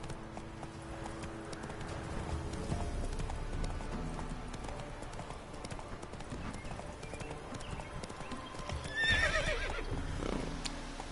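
Roach, a horse in the video game Witcher 3, clip-clops at a steady walking rhythm, faint and quiet, then gives a short whinny near the end.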